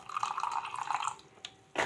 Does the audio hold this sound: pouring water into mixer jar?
yes